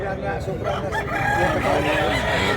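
A rooster crows at a Mantalungon, Cebu poultry sale, its drawn-out call close and loud over a busy background of other fowl and murmuring voices.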